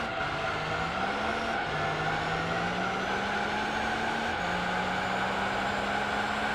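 A car engine in Gran Turismo 3: A-Spec drones and revs continuously, its pitch climbing and dropping between gear shifts, loud and steady with no pauses.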